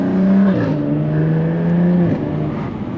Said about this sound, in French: Avec cet échappement sport, les clapets s'ouvrent et ça donne une sonorité tout simplement magnifique.